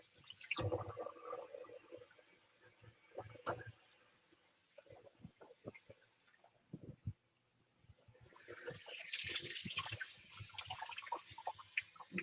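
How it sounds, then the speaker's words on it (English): Tap water runs over a wooden cutting board being washed at a kitchen sink; scattered clinks and handling noises come first, then a steady loud rush of running water fills the last few seconds. "I've got to wash off the cutting board"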